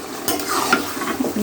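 Lightly boiled potatoes and chopped tomato stirred together in a hot pan, a spoon scraping and turning the mixture over a soft sizzle, close and alone for a brief moment.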